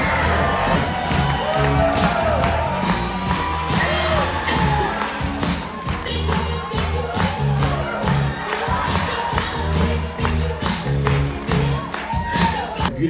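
Cruise ship audience aboard the Norwegian Sky cheering for the food and beverage director, a loud sustained crowd roar with whoops, shouts and clapping, music thumping underneath.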